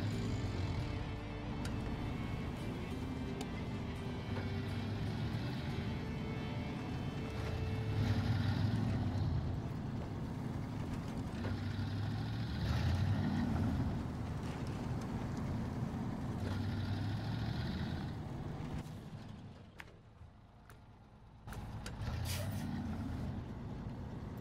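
A heavy tractor truck from SnowRunner drives along with a steady, loud diesel engine drone that swells in places, briefly drops quieter near the end, then resumes.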